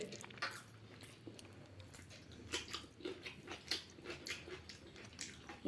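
A mother eats biryani with meat at home, with soft, close, irregular wet chewing and squishy mouth sounds and a few faint crunches over quiet room noise.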